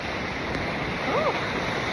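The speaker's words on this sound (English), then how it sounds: "These waves powerful as hell." Powerful ocean waves on a beach, a loud, continuous roar of surf with wind buffeting the microphone and a brief faint voice in the background.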